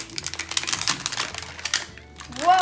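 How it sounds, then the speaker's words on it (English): A small basketball-shaped zipper on a toy is opened, heard as a quick run of close, crisp ratcheting clicks. A brief pause follows, then a voice exclaims. "So let's open the little basketball zipper."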